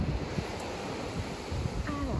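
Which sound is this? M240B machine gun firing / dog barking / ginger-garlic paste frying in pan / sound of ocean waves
sound of ocean waves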